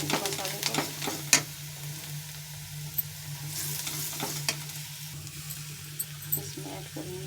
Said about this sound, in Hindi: इसको मैं अच्छे से भूनूंगी मसाले को